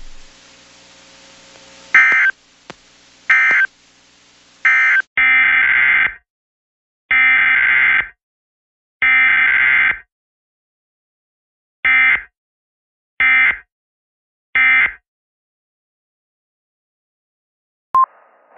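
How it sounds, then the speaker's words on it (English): A NOAA Weather Radio warning alarm and Emergency Alert System test plays loud, harsh electronic bursts in repeated groups separated by silences, followed by a brief tone at the end. "This is a test of the NOAA Weather Radio Warning Alarm Device and the Emergency Alert System."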